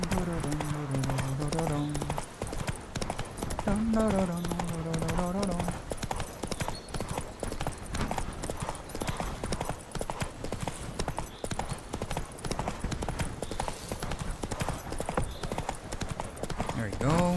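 Horse hooves clip-clop in a fast, steady gallop across The Witcher 3 video game world, a dense continuous rhythm running the whole time under a voice and background music.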